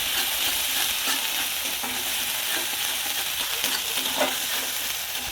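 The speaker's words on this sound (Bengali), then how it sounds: "এর মধ্যে আমি আদা রসুন বাটাটা হাফ চামচ দিয়ে দেবো। এইভাবে আমি নেড়ে নেব।" Half a spoon of ginger-garlic paste fries among reddish-browned onions in a pan, giving a dense, steady, bright sizzle throughout. Soft stirring scrapes recur now and then beneath it, and no one speaks.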